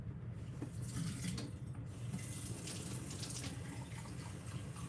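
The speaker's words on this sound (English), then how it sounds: "I'm gonna pour this out." Bottled Fiji water pours out into a sink in a steady, close splashing stream that runs for several seconds without pause, with no talk over it.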